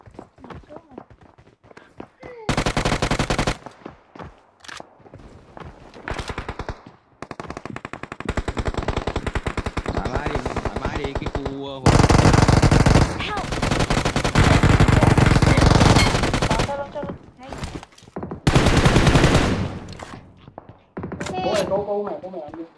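Machine-gun fire in the mobile game PUBG Mobile, several long rapid bursts of automatic shots separated by footsteps and quieter gameplay, loud and close, with players talking over it.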